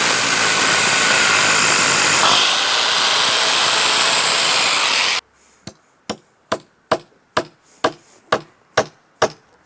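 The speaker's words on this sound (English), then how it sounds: "drill right into the middle of the wall plate" A power drill whines steadily for about five seconds drilling into a timber wall plate, then stops, followed by a series of sharp, evenly spaced hammering knocks.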